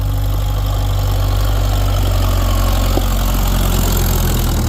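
A Farmall tractor engine, once seized and revived, runs steadily under load during a fifth gear test, a continuous loud low rumble with a constant drone and no pauses or speech.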